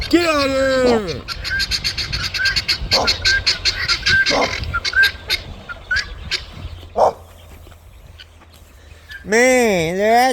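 Guinea fowl raise harsh, rapid alarm calls near a hawk, a dense stream of repeated squawks with loud whooping calls at the start and end, while people shout over them outdoors.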